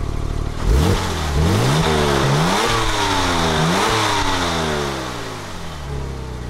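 A Porsche 997 Turbo engine revs up loudly in several rising sweeps as the car pulls away, each climb dropping back before the next, then settles into a steadier, fading drone.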